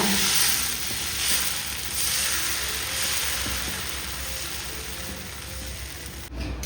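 Thin ragi dosa batter poured onto a hot griddle pan sets off a loud, steady sizzling hiss that holds evenly and eases slightly before a brief clatter at the end.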